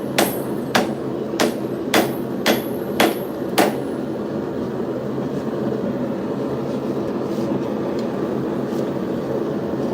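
Six sharp metallic hammer strikes on a metal punch land at a steady pace over a few seconds, then stop, leaving a constant mechanical hum in the background.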